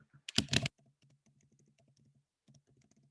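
Someone types a chat message on a computer keyboard: a quick loud burst of clustered keystrokes, then a run of soft, light taps spread out at an uneven rhythm.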